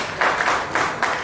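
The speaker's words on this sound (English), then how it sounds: "give a big round of applause for AIT" Audience applause at an annual general meeting, crowd clapping in bursts that swell and fade across a brief moment, fairly loud with no talk.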